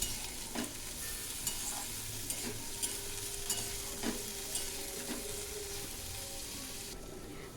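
Chopped eggplant fries with onion and green chili in a pan, giving a steady sizzle throughout, with scattered light clicks and scrapes from stirring.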